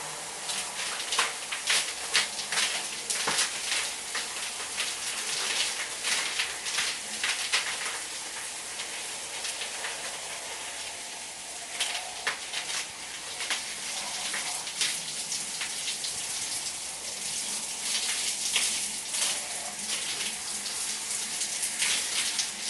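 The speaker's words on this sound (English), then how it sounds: "Rinsing with warm water or lukewarm water." Warm water runs steadily from a tap while shampoo is rinsed out of hair, a continuous close splashing and gushing with uneven spatters and no talk.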